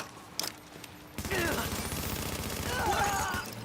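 Gunfire in The Division, a couple of sharp isolated shots early on, then a sustained stretch of rapid automatic firing that runs loud and dense to the end, with some voice mixed in.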